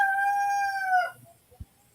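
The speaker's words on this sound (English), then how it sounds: "that rooster is a Spot." A rooster named Spot crows once, a loud, bright, drawn-out call that cuts off sharply and leaves a quiet background with a soft knock near the end.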